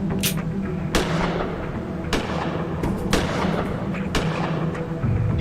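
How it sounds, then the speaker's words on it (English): Gunshots in the point-and-click game Gemini Rue, about six sharp reports spaced roughly a second apart over a steady dense background rumble, close and loud. "Try shooting the target again after reloading."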